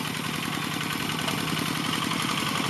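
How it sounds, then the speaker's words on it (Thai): Single-cylinder walk-behind tractor engine running steadily while ploughing a paddy field, a continuous close, loud chugging drone with even rapid firing pulses and no voices. "วันนี้จัดเจ้าตัวรถไถนาเดินตามครับ"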